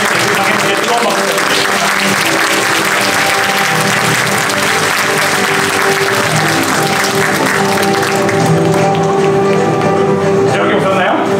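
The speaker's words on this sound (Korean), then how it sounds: "당연히 뜨거운 박수." A large audience at a university seminar magic performance claps loudly and continuously for over ten seconds, dense and close, with cheers and voices mixed in and music playing underneath.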